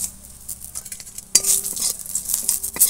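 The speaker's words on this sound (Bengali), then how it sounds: "আমি এর মধ্যে শুক্তো পাতাও ভেজে নেব" Dried shukto leaves fried briefly in oil, giving a soft sizzle with clattering metal stirring strokes against the pan that grow louder partway through; no voices.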